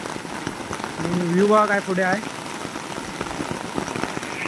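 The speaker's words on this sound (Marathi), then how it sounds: "पाऊस असा पडतोय मोठा त्यामुळे." Heavy monsoon rain pours down over flooded paddy fields at a traditional rice transplanting in Konkan, a dense continuous hiss of drops on water and surfaces, with someone speaking briefly over it.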